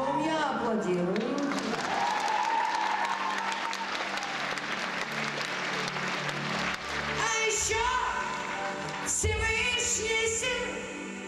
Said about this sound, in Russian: Аплодирую.